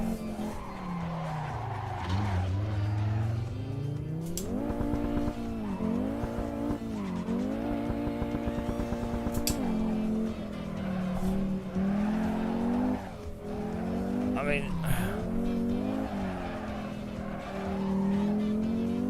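A race car in the Assetto Corsa Evo video game slides with its tyres squealing, the engine drone rising and falling as the tyre screech wavers through repeated slides, loud and continuous throughout.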